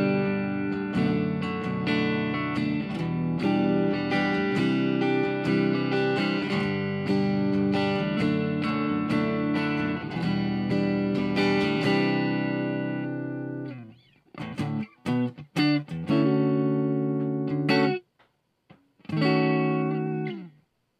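An electric guitar is played through a multi-effects unit with a dry, clean tone and no reverb: strummed chords ring steadily, then give way to choppy, sparse notes and short pauses.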